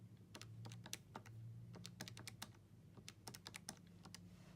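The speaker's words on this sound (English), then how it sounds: "So I'm just going to sum them up on my calculator." Calculator keys pressed while summing a list of numbers: quick, irregular plastic clicks and taps, faint and close, with no talking.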